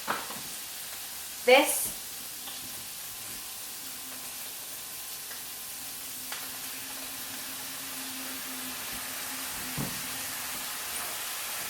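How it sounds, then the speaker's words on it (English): Raw prawns sizzling in butter and olive oil in a pan for spicy papaya prawns: a loud crackling burst as they hit the fat, then a steady soft sizzle, with one brief spoken word early on. "I'm going to put in my prawns first because they're raw"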